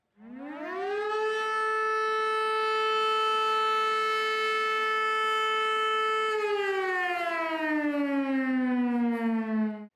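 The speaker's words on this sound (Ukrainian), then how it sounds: "Це той самий сигнал, який всі ми чуємо під час оголошення повітряної тривоги." A civil defense air raid siren holds a steady loud wailing tone, then slowly winds down in pitch toward the end, with no other sounds.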